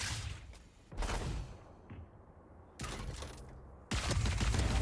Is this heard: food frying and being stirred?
no